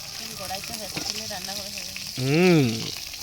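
Pieces of pangasius fish fry in plenty of hot oil on an outdoor clay stove, giving a steady close sizzle throughout while a voice speaks over it.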